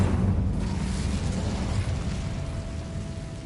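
Incendio fire spell cast in the video game Hogwarts Legacy, a loud rumbling fiery burst at the start that gradually dies away into a low roar with a faint lingering tone.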